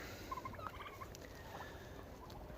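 Turkeys on a farm, broad-breasted white birds eating apples, giving faint gobbling and chattering calls in quick bursts against low background noise.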